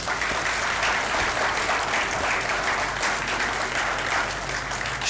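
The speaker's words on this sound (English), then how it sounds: "Fakhr Zaman, our Director of Academics, a big clap for him." Sustained, fairly loud applause from an audience at a Federal Judicial Academy event, clapping for a speaker, continues evenly from start to finish without any talking.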